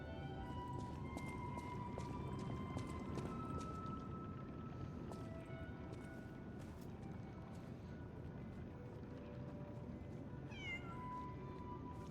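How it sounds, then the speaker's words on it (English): In the video game Lies of P, a kitten gives a brief rising meow near the end, faint beneath a busy, steady backdrop of game ambience and scattered clicking tones. "Little kitten."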